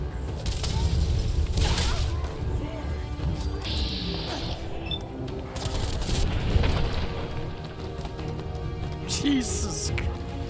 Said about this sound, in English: This is the fucking grenade, guys.